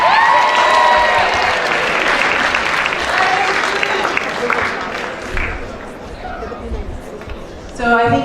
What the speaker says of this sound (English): give each other another round of applause